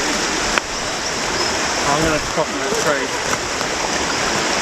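A shallow, silty East Coast creek rushes steadily close by near a small waterfall, a continuous broadband wash of flowing water with someone speaking briefly over it.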